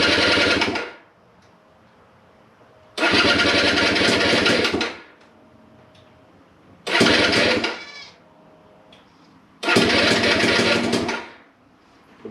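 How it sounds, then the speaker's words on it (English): A GPX Moto TSE250R motorcycle with choke applied, cold on its first start, cranking in four separate loud bursts of a second or two each, broken by quiet pauses, close up with no talk. "Okay, first start, turn it on."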